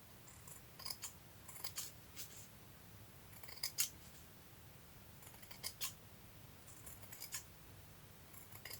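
Scissors cut paper for a vintage Christmas journal in several short clusters of crisp, close snips. They are soft and separated by brief pauses, with no talking.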